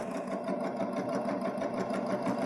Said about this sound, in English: lower my presser foot and start to sew